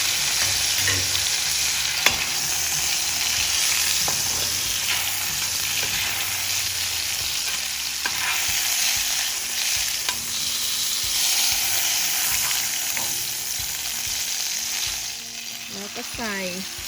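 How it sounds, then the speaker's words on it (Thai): Pork leg stir-fried with light soy sauce in an iron wok, giving a loud, steady sizzle with repeated scraping stir strokes throughout, close up. "เดี๋ยวเราเตรียมเอาขาหมูลงไปผัด ใส่ซีอิ๊วขาวนิดนึงนะคะ"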